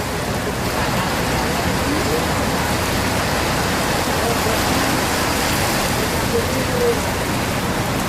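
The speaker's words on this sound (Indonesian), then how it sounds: "Hujan lebat." Heavy rain pours down in a dense, constant hiss at the Pondok Pinang bus terminal in Lebak Bulus, Jakarta, with faint voices now and then beneath the downpour.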